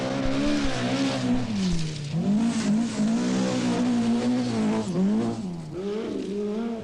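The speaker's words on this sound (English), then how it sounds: "Swede Bjorn Valdegard leads another Japanese attack with his Toyota Celica." Toyota Celica rally car on a 1981 World Rally Championship stage, engine loud and close as it revs, drops and climbs through repeated gear changes, with rough gravel noise underneath.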